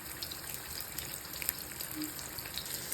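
Seabass fish frying in a pan in a home kitchen, with a steady, soft sizzle and crackle running the whole way through at moderate, close level.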